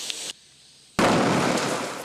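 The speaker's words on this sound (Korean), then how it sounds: "3분 50초 만에 용기가 변형됐고 30초 뒤엔 폭발했습니다." A butane gas canister left beside a charcoal fire explodes after deforming from the heat, a sudden loud blast that cuts in after a brief hush and then trails into a sustained roaring burst of flame and scattering debris.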